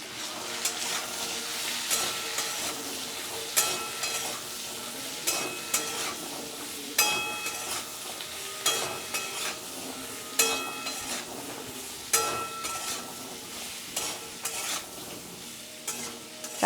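Potato pieces seasoned with salt and turmeric fry in a pan, giving a steady close sizzle while a utensil scrapes and stirs in repeated rhythmic strokes throughout.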